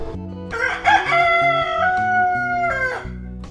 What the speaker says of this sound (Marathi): cock म्हणजे कोंबडा.